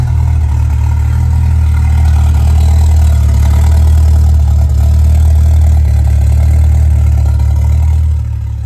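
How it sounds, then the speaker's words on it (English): A Ford Foxbody Mustang V8 idles on its own, a loud, deep, steady burbling rumble sustained close by for several seconds with no talk, easing slightly at the end. "See, now it sounds like a V8."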